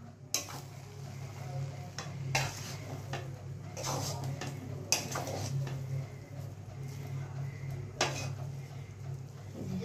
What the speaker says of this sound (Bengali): একটু সাই গরম মশলার গুঁড়ো দিলাম, দিয়ে এটাকে এবারে মিশিয়ে নেব